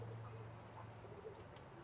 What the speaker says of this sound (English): It's supposed to be the smallest pigeon.